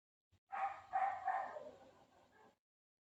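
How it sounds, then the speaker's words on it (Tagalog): A dog barks three times in quick succession, fairly close and moderately loud, followed by a short trailing whimper-like yelp. "Ang ingay ng aso."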